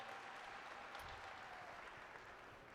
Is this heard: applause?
yes